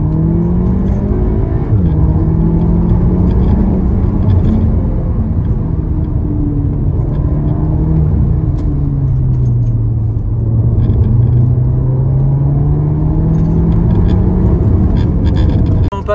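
A Cupra Ateca with a 300 hp engine is heard from inside while driving, giving a steady, fairly loud engine rumble and road roar with slow rises and falls in pitch as it accelerates and eases off.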